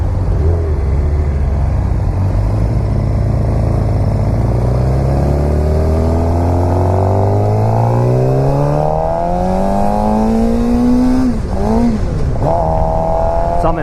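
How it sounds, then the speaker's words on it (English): 2016 Suzuki GSX-R600 supersport motorcycle accelerating hard in third gear, its engine pitch climbing steadily to a loud high-revving scream, then dipping and rising again on a quick throttle blip. "So I'm in third gear. First of all, this bike sounds amazing."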